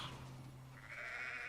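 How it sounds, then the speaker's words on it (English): A goat in the Hogwarts Legacy video game gives a short, faint bleat with a wavering tone that rises partway through, alone against quiet background. "Sorry, goat."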